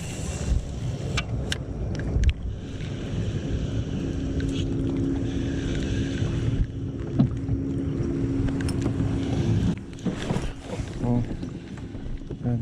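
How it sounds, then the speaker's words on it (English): Motorboat traffic on Taylorsville Lake, Kentucky, heard from a kayak at midday in summer: a continuous hum of boat engines in the distance under steady talking, with occasional thumps and splashes nearby. "as you saw from the intro with the boat traffic, it's horrendous out there"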